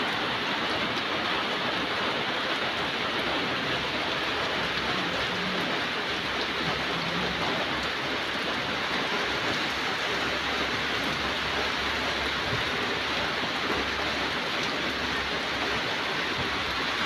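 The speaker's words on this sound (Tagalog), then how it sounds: "Lakas pa rin ng ulan." Heavy rain pours steadily over a backyard pig farm, a loud unbroken hiss of drops drumming on surfaces with no pauses and no voices.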